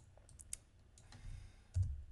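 Faint, sparse computer mouse clicks at a desk, a handful of small isolated clicks against quiet room tone with no talking.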